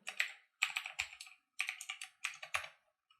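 Quick bursts of keystrokes on a computer keyboard as a password is typed, several short clusters of crisp clicks separated by brief pauses, close and fairly quiet with no talking.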